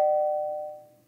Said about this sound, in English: That's my doorbell app,